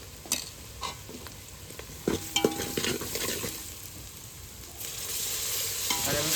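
Vegetable curry sizzles and fries in a pan while a spoon stirs it in irregular scraping strokes, the steady crackle carrying on close and clear with no talking.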